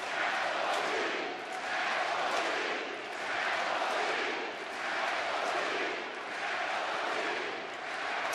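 Baseball stadium crowd in Texas chanting a cheer during a Kansas City at Texas game, a dense roar of many voices swelling and dipping in a steady rhythmic pattern that fills the whole stretch.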